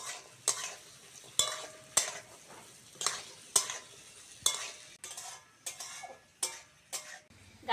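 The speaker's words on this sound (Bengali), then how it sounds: "গাজর আলুটা ভাজা হোক" Potato and carrot pieces fry for chow mein while a utensil strikes and scrapes the pan in a regular rhythm of sharp clatters over a soft, close sizzle, with no talking.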